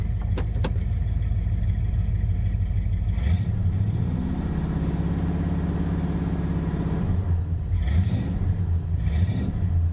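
A 1972 Oldsmobile Cutlass with a 455 big-block V8 running in drive, a deep steady rumble close by whose pitch and load shift partway through, with no talk over it.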